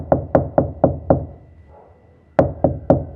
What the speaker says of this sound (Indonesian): Tiba-tiba Sekar merasa ada yang mengetuk pintu.